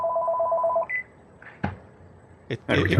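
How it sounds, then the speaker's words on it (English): A telephone rings with a short electronic trill that stops after under a second, followed by a few brief knocks and then a person starting to speak. "Somebody's phone is ringing."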